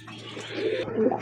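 One of a pair of good-quality pigeons for sale gives a single short, low coo, close by and fairly quiet, with no voices over it.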